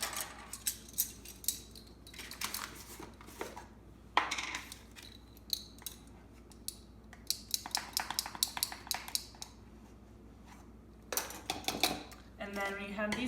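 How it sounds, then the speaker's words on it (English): A whisk mixes superfine sugar and cornstarch in a bowl for meringue, making intermittent clinks and scrapes against the bowl in uneven bursts, with a quick rapid rattle near the end. "when you have these ingredients in the bowl, whisk it together"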